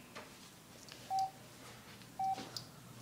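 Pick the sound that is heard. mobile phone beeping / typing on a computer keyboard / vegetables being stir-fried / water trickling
mobile phone beeping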